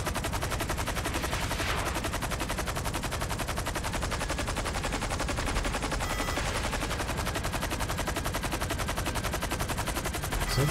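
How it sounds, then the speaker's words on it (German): Rapid automatic gunfire in the video game GTA 5, a dense unbroken stream of loud shots rattling steadily for the whole stretch with no voices. "Die schießen auf mich!"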